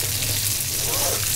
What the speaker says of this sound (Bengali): মাছটা এখন ভেজে নিচ্ছি।